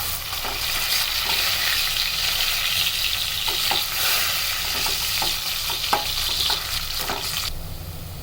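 Cinnamon, bay leaves and cardamom fry in oil over lightly browned onion in a pan of raw jackfruit curry, giving a steady close sizzle broken by repeated spoon-stirring scrapes and clicks, with no one talking.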